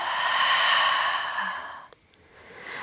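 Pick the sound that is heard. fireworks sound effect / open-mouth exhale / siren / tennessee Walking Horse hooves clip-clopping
open-mouth exhale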